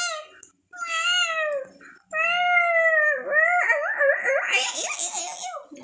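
A cat in the video game Minecraft gives several loud, drawn-out meows in quick succession, with giggling voices mixing in toward the end.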